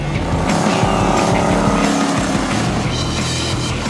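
Lawn tractors racing in a cross race roar loudly and continuously at close range, engines revving hard with tire squeals and skidding mixed in, with no speech.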